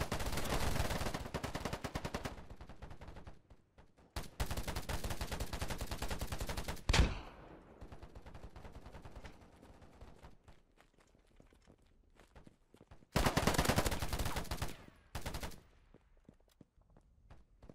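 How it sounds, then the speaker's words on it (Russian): Long bursts of automatic AK-47 hip-fire in the shooter game Polygon, loud and rapid, separated by quieter gaps with footsteps and a reload-like clatter. "Вот и стрельба от бедра."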